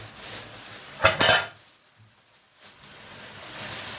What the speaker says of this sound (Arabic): انا عايزه اديلها تشويحه مع اللحمه قبل ما احط الطماطم